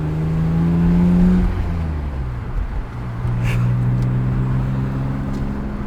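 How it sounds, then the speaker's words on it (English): BMW M3 engine blipping during a downshift, a close, steady engine drone that dips and then rises again in pitch, heard from inside the car. "Nice crispy little downshift."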